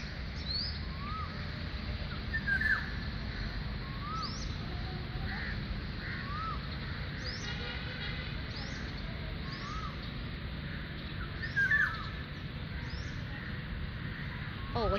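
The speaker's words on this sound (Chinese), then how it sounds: "刚才有没有听到喜鹊的叫声？" A magpie calls outdoors in a park in Malacca, beneath a large rain tree: scattered chirps and short harsh calls repeat at moderate distance, two of them louder, over a constant low background hum.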